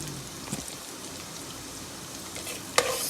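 Onion and ginger fry in a pan with a steady, close sizzle and crackle, broken by a couple of brief scraping stir sounds near the end, with no talking.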